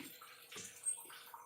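Tap water runs in a steady, fairly quiet wash while leafy greens (bhaji) are rinsed in a home kitchen, with soft splashy bursts and no talking.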